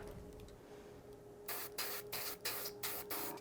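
Short airbrush bursts spray weathering onto an RC model plane, a run of five or six close hissing puffs with brief gaps after a quiet stretch of low room hum.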